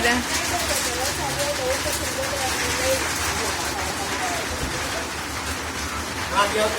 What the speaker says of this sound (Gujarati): વરસાદ તો ચાલુ થઈ ગયો મોટા છાંટા એ